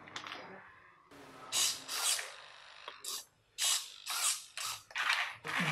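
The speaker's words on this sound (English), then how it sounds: "we use standard HIG joystick controller to control the DC motors and the pan tilt servo motors" Small DC drive motors and pan-tilt servo motors on the Toradex Petbot robot whir in short, loud bursts with pauses between, a series of close mechanical grinding spurts as the robot is driven by joystick.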